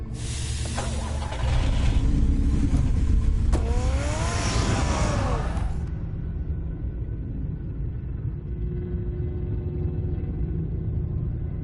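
A car engine revs and drives off in the Batman Telltale Series video game, a loud rumbling rise with a rising whine that drops to a lower steady hum once the car pulls away.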